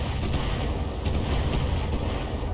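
A Locust mech in the BattleTech video game fires missiles, producing a dense, continuous roar of rapid launches and rumbling blasts that stays loud and steady throughout.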